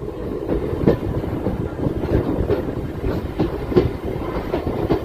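A train rolls into Kurichedu railway station, its wheels clattering in a steady rumbling rhythm with regular rail-joint knocks, loud and close.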